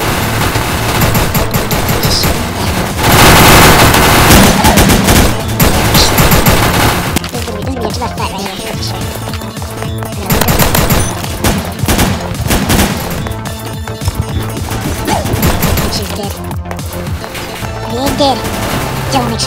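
Rapid bursts of automatic gunfire in a Roblox shooter game, loud and dense throughout, with long sustained volleys and brief gaps between fusillades.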